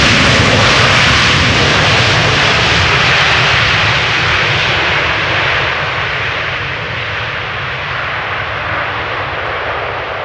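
A Boeing 787 Dreamliner arriving at Amsterdam Schiphol roars past close by, a loud broad jet rumble with hissing high end that holds steady and then slowly eases off as it moves away.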